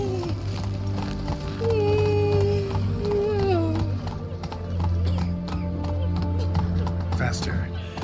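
Roach the horse gallops through The Witcher 3 with steady clip-clop hoofbeats and an occasional whinny, set over a continuous game music bed at moderate loudness.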